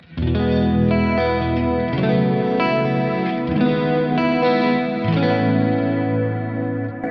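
Electric guitar through a Kemper Profiler, strummed chords with chorus and dual delay effects and no pitch shifter, ringing and sustained, played alone at a moderate volume and fading at the end.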